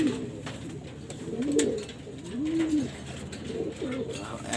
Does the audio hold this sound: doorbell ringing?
no